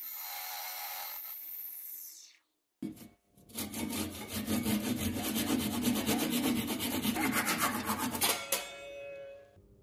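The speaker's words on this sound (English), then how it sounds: "I also went over it with some medium grit sandpaper." Medium grit sandpaper rubs against a small wooden Christmas tree spinning on a lathe, a steady rasping hiss with a fast rhythmic pulse that follows a brief pause, close and fairly loud before stopping abruptly.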